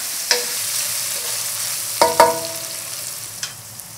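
Korean-style mapo tofu stirred in a pan, with a steady low sizzle and a few distinct metallic clanks and scrapes of the utensil against the pan, two of them close together near the middle.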